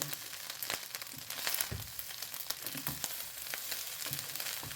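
Rice being stir-fried in a pan, a soft crackling sizzle broken by sharp spatula scrapes and taps against the pan, close but fairly quiet, with no voices.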